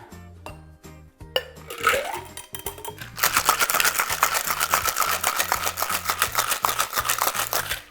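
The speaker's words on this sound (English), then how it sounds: "I'm gonna shake this up" A loud, steady rattle of ice being shaken hard in a cocktail shaker with a watermelon cocktail, quick and continuous, following a few clinks and knocks.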